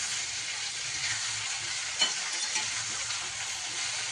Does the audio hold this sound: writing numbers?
no